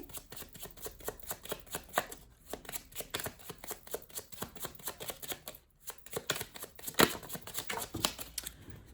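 Lenormand cards are shuffled for a card reading, producing rapid close flicks and riffling clicks in a busy, uneven rhythm with a short pause partway, with no speech.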